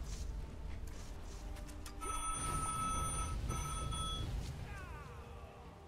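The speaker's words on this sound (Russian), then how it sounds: "будильник зазвонил" An alarm clock ringing with a bright, sustained metallic bell trill for a couple of seconds, moderately loud over a faint background hum, no talking.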